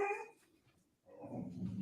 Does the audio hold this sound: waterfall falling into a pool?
no